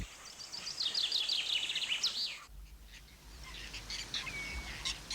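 Herons calling at a nesting tree on an empty Greek plain, a busy chorus of chattering, squealing bird calls at moderate distance, with a low rumble of wind in the second half.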